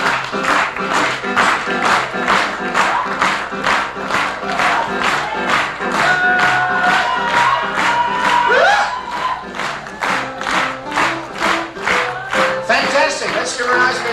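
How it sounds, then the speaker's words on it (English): An audience on a Caribbean cruise breaks into loud, rhythmic, steady clapping mixed with cheers and whoops, with crowd voices underneath throughout. "Let's give her a nice big round of applause."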